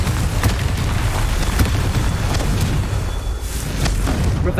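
Confringo blasting spell explosion in Hogwarts Legacy: a loud, sustained rumbling blast with deep booming energy and crackling debris throughout, heard up close with no talking.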